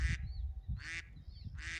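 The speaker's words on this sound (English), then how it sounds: "Mr. Goose, get your little geese out of here." Three loud, raspy honks from nearby geese at Black Kettle National Grasslands, evenly spaced, with faint squeaky calls in between and low rustling underneath.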